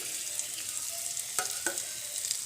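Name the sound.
cumin and garlic paste frying in oil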